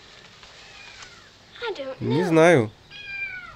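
Kittens meow repeatedly, rising and wavering cries that grow louder toward the middle, heard close by while a person briefly speaks over them.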